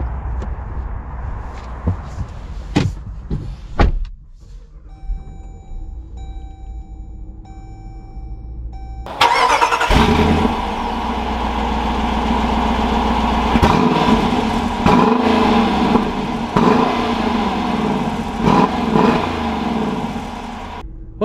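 A 2021 Dodge Durango R/T starts up. Chimes ring, then the engine turns over with a loud, close rumble and settles into a steady idle and driving drone, with a few bumps and clicks.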